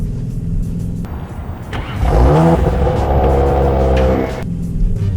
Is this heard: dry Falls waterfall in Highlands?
no